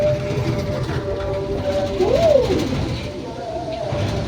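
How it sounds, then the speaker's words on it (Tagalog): Riding inside a train in Kuala Lumpur, a steady low rumble of the carriage fills the space, with a rising and falling whine near the middle and voices talking over it. "Nasa train tayo."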